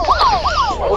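Police car siren wailing loud and close, its tone sweeping up and down in quick repeated cycles over a steady background rumble.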